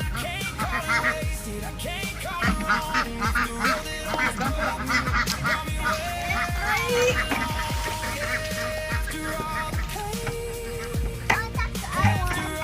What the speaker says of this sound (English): These ducks don't know what to do with themselves.